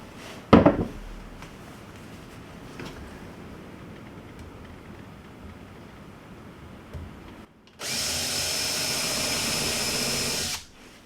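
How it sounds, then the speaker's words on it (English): A power drill with a countersinking bit for stainless steel screws on pine deck beams, a sharp knock early, then quiet outdoor background before a loud steady whirring burst of about three seconds. "So that was just a countersinking bit that I used."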